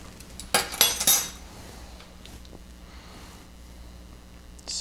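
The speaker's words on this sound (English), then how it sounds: "Spread it all around." Metal utensil clinking and scraping against a dish while spreading chocolate syrup over ladyfingers, a quick cluster of bright clinks followed by faint soft scraping.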